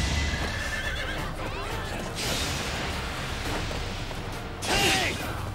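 A horse neighs in the strategy video game Fire Emblem: Three Houses, a clear whinny near the end over busy game sounds with whooshes and hoofbeats.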